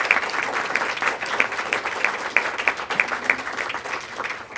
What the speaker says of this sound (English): now is the time to applaud, because you should applaud for yourselves.